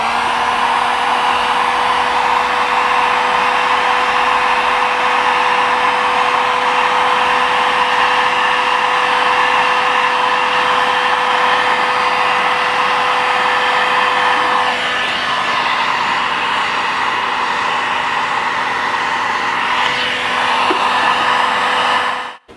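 A heat gun blows continuously as it shrinks heat shrink tubing over wiring connections on off-road light cables for a Jeep Wrangler JL, a loud steady whine that shifts slightly in pitch partway through, then cuts off.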